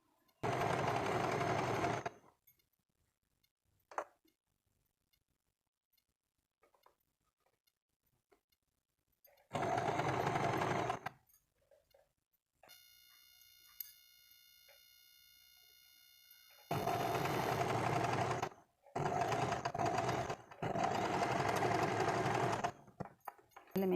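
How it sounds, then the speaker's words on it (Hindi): Sewing machine stitching a kurti in loud, close bursts of fast mechanical whirring and needle clatter, separated by silent pauses while the fabric is repositioned. "अब सिलाई करते हैं।"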